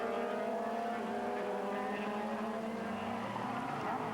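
Pack of Supertourisme touring race cars launching from a standing start at the Lédenon circuit in 1996, a dense, loud, continuous engine roar with layered revving tones and no speech.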